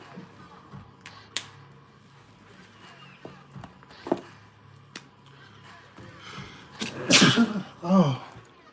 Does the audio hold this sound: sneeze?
yes